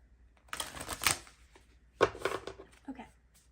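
A tarot deck is shuffled up close in quick riffling bursts, with a pause between two main shuffles, then a few softer card taps.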